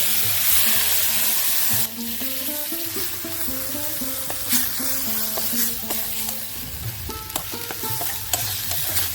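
Drumstick flower paste with ginger and green chilli paste frying in a pan, stirred with a spatula under a loud continuous sizzle, with scraping strokes and occasional clinks close by.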